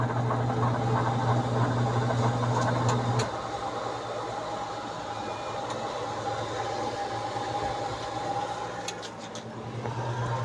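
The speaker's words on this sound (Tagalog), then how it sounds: "kung maobserbahan nyo ay gumagana yung ating spin motor" Spin dryer motor of a washing machine under repair after rat-chewed wiring, running with a steady close hum and vibration that drops in pitch partway through.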